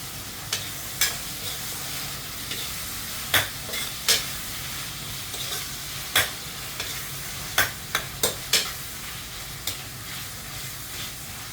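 Vegetables and tomato sizzle steadily while being sautéed in a pan, with a spoon stirring in irregular scraping clicks over the continuous frying hiss; no talk.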